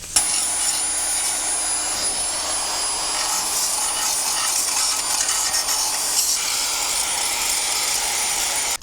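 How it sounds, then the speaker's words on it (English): Rust being scrubbed off the exhaust of an abandoned Mercedes W124, a loud continuous abrasive hiss and rasp that barely changes in level, close up. "let's clear the rust off of that exhaust"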